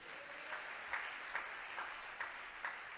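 A church congregation claps along at a sermon in a steady, evenly spaced rhythm of about six beats, faint and distant under a roomy background hiss.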